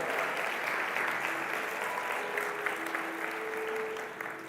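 Sustained congregational applause fills a church service, a steady dense wash of many hands clapping at moderate distance, easing slightly toward the end.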